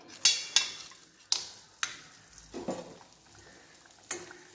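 Store-bought masala poori deep-frying in hot oil, a few sharp sizzling bursts as pieces drop in, then a soft steady bubbling with light utensil clinks.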